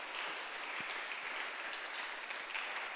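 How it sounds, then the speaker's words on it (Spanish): Church congregation applauding in a worship service, a steady wash of clapping hands that stays fairly even and moderately distant for the full three seconds, with no voices rising above it. "Dale una más grande ofrenda de palmas a nuestro gran Rey de Reyes"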